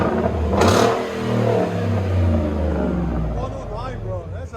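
A Ford F-150 SVT Raptor with a 6.2L V8 revs loudly through an aftermarket exhaust. A deep, throaty roar swells and then settles into a rumbling idle, up close and alone.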